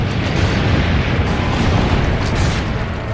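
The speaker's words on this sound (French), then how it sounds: "Chargez le canon." A cannon fires in Assassin's Creed Brotherhood, a loud, broad booming rumble that fills the whole moment with sustained blast noise.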